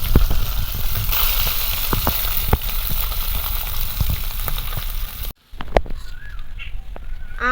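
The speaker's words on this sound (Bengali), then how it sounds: "কড়াইতে আরও একটু তেল দিয়ে দেবো দিয়ে বাকি মাছগুলো একইভাবে ভেজে নেবো" Mourala fish sizzle and crackle loudly in hot oil in a wok. The sound cuts off abruptly near the end, and a few bird chirps follow.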